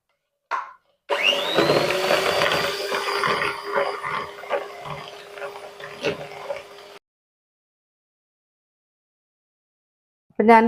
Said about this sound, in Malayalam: ആ മുട്ടയും പഞ്ചസാരയും കൂടെ അടിച്ചെടുത്തിട്ടുണ്ട് കേട്ടോ